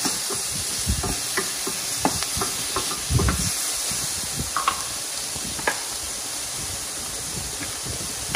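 Peeled, deveined shrimp cook in a pan for a spicy Asian keto stir fry, giving a steady, close sizzle and hiss with occasional stirring scrapes and pops throughout.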